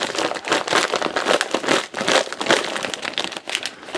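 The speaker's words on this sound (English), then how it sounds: "I hope I wasn't crinkling this the whole time in your ear." Plastic food packaging crinkles close up in a run of rapid, uneven crackling bursts that rise and fall without pause, with no talking.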